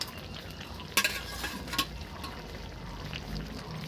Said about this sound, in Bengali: আমি সুন্দর করে মাছগুলো দিয়ে দিলাম।